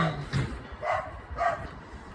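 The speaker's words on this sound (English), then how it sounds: "I'm sorry about that nasty dog." A dog barks three times at a moderate distance, short sharp barks spaced about half a second apart, with no talking.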